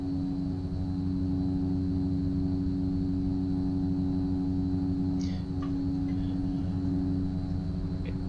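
Fokker F-27 twin turboprop engines at full power in Microsoft Flight Simulator 2020, a steady loud droning hum with strong tonal bands, continuous throughout with a brief faint chirp midway.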